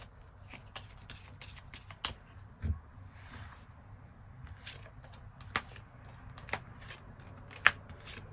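Tarot cards being shuffled and drawn for a reading, heard as soft riffling with crisp, sharp card snaps and flicks scattered at irregular intervals, close and quiet with no talk.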